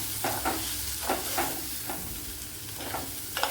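Chopped onion and carrot frying in a pan, stirred with a utensil: scraping strokes every half second or so over a steady close sizzle.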